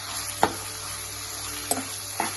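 Liver fries in a pan with turmeric and salt, giving a soft, continuous sizzle broken by three brief scraping stirs of a spoon.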